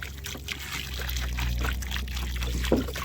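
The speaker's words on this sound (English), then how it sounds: "Water it real good." Water poured and trickling onto the soil around a newly planted fruit tree, a steady, soft gurgling stream with faint splashes, heard up close and fairly quiet.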